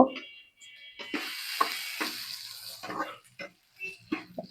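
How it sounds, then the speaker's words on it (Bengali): Onions frying in a pan for aloo bharta (mashed potato): a hissing sizzle that swells and fades in bursts, with a voice talking now and then alongside it. "আলু ভর্তা পেঁয়াজ ভাজতে দিছি"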